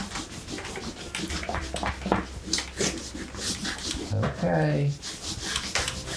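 A pencil drawing being rubbed out with an eraser, a dry scratchy rubbing that repeats in quick strokes at close range, with a person saying a brief word partway through.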